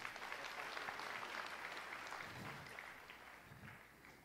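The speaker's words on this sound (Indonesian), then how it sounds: "Tepuk tangan buat teman-teman saya." Church congregation applauds for a few seconds, a dense, even patter of many hands clapping at a distance, fairly faint and gradually fading.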